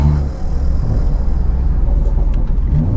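Inside a BMW 340i on the road, a steady deep engine and tire rumble fills the cabin, loud and continuous with a low drone and no talking.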